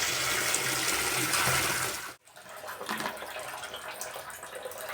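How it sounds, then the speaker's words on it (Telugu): Running tap water pours steadily and loudly over chicken feet being washed, cuts off briefly, then resumes with lighter splashing and handling of the feet in water. "మళ్ళీ ఇంకొకసారి ఫ్రెష్ వాటర్తో కడుగు"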